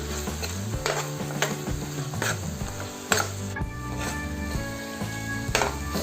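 Cumin and coriander seeds fry with softened tomatoes as a spoon stirs and scrapes the pan in repeated strokes, a close sizzle running under steady background music.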